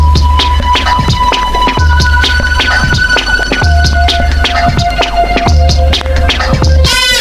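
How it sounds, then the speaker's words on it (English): Music plays from a vinyl record on a turntable with a steady thumping beat and sustained tones, layered with scratchy surface noise and a low hum. "Let's put the needle on the record and let the record spin."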